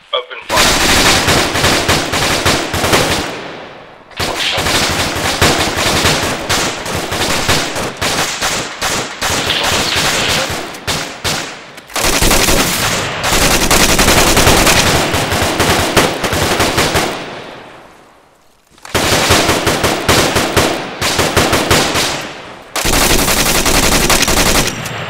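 Heavy machine gun fire in the military video game Arma 3 rattles in long, loud, sustained bursts with a few short pauses between them.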